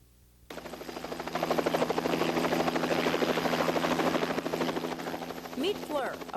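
Helicopter engine and rotor whir overhead, a steady loud churning drone with rhythmic blade chop that starts abruptly and holds throughout, fading slightly near the end.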